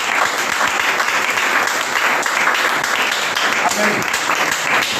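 A church congregation at a Sunday praise and worship service claps in sustained, dense applause that fills the room, with a voice heard over the clapping.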